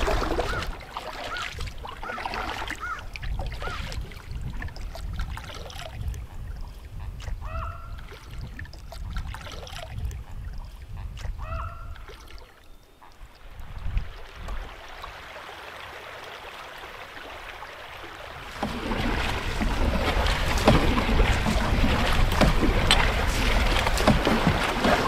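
A canoe is paddled along a cold trout river with thin ice about, water sloshing and trickling close by in steady splashy strokes, then a louder, denser rush of water toward the end.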